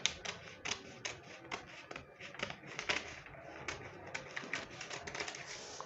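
Scissors snip through paper or fabric while a three-part corset pattern piece is cut out, giving a run of quick, close, crisp clicks and cuts at an uneven rhythm.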